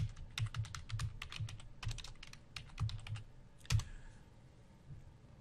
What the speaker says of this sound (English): So you type in just Globe Afrique like you have it.